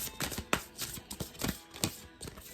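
Angel answer cards shuffled by hand during a spiritual card reading, giving a quick run of soft, papery riffles and snaps in an irregular rhythm, close and fairly quiet, with no talking.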